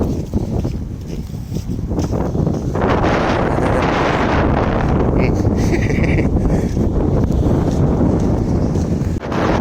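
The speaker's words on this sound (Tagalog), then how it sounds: "Mahangin kasi itong pwesto nila." Strong wind buffets the microphone in a continuous loud rumble at an outdoor spot, with faint voices partly buried beneath it.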